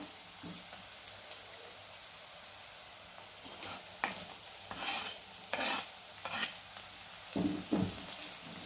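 Tomato tipped into lightly fried onion in a pan and stirred, giving a quiet background sizzle broken by a series of scraping stir strokes, several clustered in the second half, with no talking.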